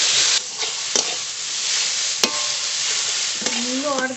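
Radish with salt and turmeric stir-frying in oil in a wok, a steady close sizzle broken by several sharp spatula scrapes and clinks against the pan, no talking.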